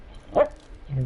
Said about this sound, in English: that noise is, it's my dog.